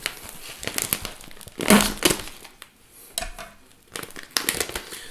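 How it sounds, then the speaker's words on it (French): Plastic packaging around a foie gras from the Brive-la-Gaillarde market being torn open, with loud close crinkling and crumpling in irregular bursts separated by brief pauses. "On commence, hop, par ouvrir le foie gras."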